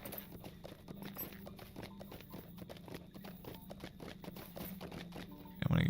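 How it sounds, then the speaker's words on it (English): Horse hooves clip-clop at a steady walking rhythm while riding through Middle-earth in an online role-playing game, with a louder burst of sound at the very end. "When you're riding around in Middle Earth, just turn off the HUD."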